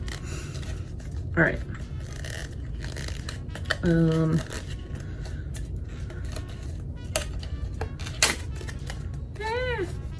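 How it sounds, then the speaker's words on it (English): Stiff hard plastic packaging on a makeup brush set is ripped and pried open by hand, with scattered sharp crinkles, snaps and tearing bursts amid soft handling noise and brief talk. "this cover is like so hard to get off. So we're just gonna rip it"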